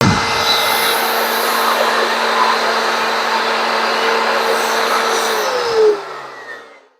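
A repaired blower vacuum motor runs with a loud, steady, high whine, then shuts off and spins down over the final second.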